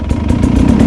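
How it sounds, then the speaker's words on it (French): Sherco 300 Factory trial motorcycle engine running steadily in first gear with a Rekluse Radius CX automatic clutch, a close, loud, even engine drone with slight pulsing through the short stretch. "Là la moto en première elle cale pas."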